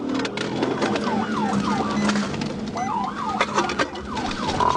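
A state trooper's patrol car siren wails during a high-speed pursuit, sweeping up and down in repeated loud cycles and staying close over steady road and engine noise.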